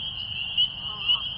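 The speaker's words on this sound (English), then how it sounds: "I'm hearing another frog mixed in as well." A chorus of spring peepers forms a steady, piercing high whistle-trill that swells twice, with faint lower croaks from another frog mixed into the night background.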